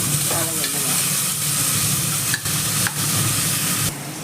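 Sliced onions frying in hot oil for pepper masala chicken, a loud, steady sizzle and crackle with a few stirring scrapes and clinks, close up and without talk.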